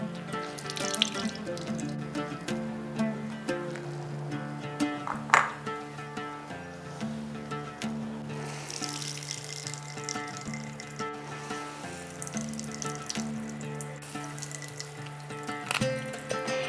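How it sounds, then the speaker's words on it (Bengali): Water is wrung from cooked vegetarian food through a cotton cloth into a bowl, trickling and splashing steadily for several seconds over a quiet tonal background. "কিন্তু নিগড়ে নিতে হবে। সেজন্য এরকম একটা পাত্র নিয়ে নিচ্ছি, তার উপরে দিয়ে দিচ্ছি এরকম একটা রুমাল।"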